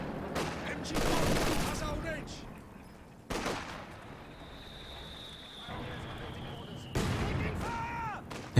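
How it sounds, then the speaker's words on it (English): Incendiary artillery barrage in the Company of Heroes 2 strategy game, with loud booming impacts and sustained fiery crackle around 1 second and again near 3.3 and 7 seconds, plus a whistling shell tone drifting through the middle. "we have incendiary artillery being dropped here"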